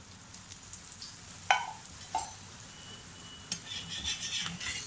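A roti sizzles in oil on a hot tava over a high gas flame. A soft steady frying hiss runs throughout, with a few brief scrapes and taps of a utensil on the griddle.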